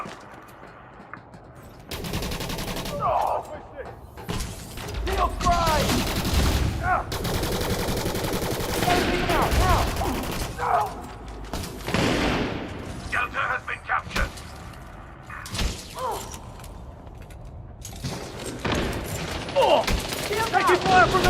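Rapid bursts of blaster and gunfire crackle through a space combat scene in Elite Dangerous: Odyssey, uneven volleys rising and falling while in-game voices call out over the shooting.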